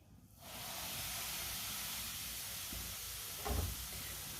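Semolina tipped into hot ghee in a pan sets off a sudden, steady close-up sizzling hiss. A brief soft thump of stirring comes near the end.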